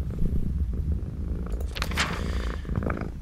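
A cat purrs in the video game Befriended Curse, a soft continuous rumbling purr running through the short moment, with brief brighter scratchy sounds midway.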